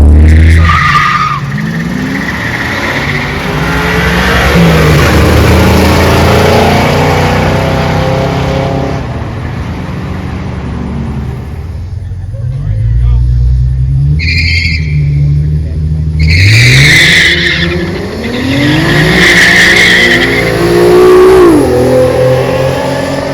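Tires screeching during drag racing, long loud squeals and skids over revving engines and acceleration, close and sustained, with a person talking throughout.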